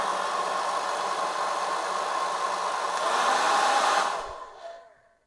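A hair dryer running on an EcoFlow River 2 Pro portable power station blows with a steady whirring roar that swells slightly, then cuts out abruptly and winds down to silence.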